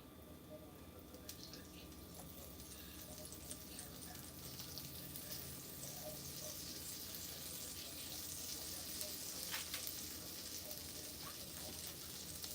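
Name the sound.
butter sizzling in a hot cast iron pan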